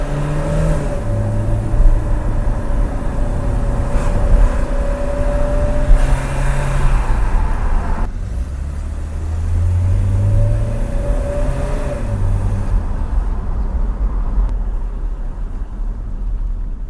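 A BMW E30 accelerates hard on gravel, its engine revving up in rising, strained pitch sweeps that break and climb again, loud and close throughout.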